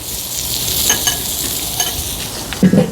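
A teres major steak sears in a pan with butter, giving a steady close sizzle and crackle that bursts louder near the end, with no talking.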